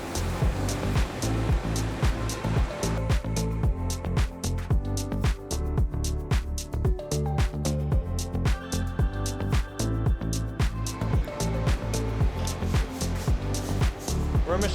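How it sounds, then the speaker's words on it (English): A Mazak vertical mill cuts 7050-series aluminum rails from solid blocks: a rapid, rhythmic chatter of repeated cutter strikes with a steady machine hum beneath, loud and close, running continuously through the stretch. "We're machining these on our MAZAK vertical mill."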